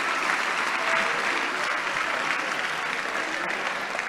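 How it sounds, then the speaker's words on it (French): En Marche deputies applauding in the French parliament chamber: a dense, sustained wash of many hands clapping, even in level throughout, with a faint murmur of voices beneath. "Ah là, il y a des applaudissements d'En Marche."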